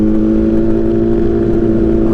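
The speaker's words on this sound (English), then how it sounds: "I love that smooth, super high-pitched, crazy rev that we all grew up to, knowing as a street bike" Street bike engine held at a steady high rev, a loud, smooth, sustained whine with strong even harmonics, close and continuous without pause or talk.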